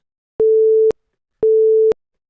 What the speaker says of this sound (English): Our timers have actual sounds now. You'll be able to hear this.